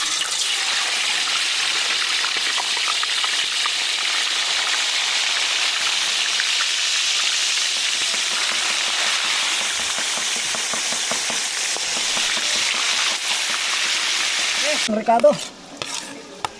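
Steady sizzling of bay leaves frying in a pan, loud and close, with occasional stirring scrapes and a brief clatter near the end.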